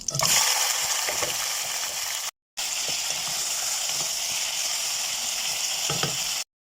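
Chicken pieces frying in butter in a pan, a close, steady sizzle with occasional stirring scrapes, broken by a brief silent gap before the frying resumes.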